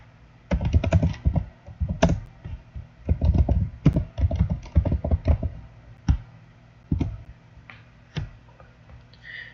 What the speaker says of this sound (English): we're going to type this command in another terminal.